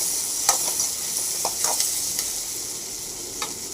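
Onions and green chillies sautéing in a pan, a steady close sizzle broken by a handful of light spatula scrapes and taps.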